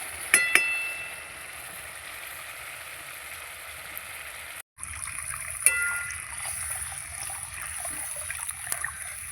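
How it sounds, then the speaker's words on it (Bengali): Water trickles and splashes into a pan of Bengali katla fish curry, a soft continuous pouring with a few clinks, briefly cut off midway before resuming faintly. "এবার জল দিয়ে দেবো।"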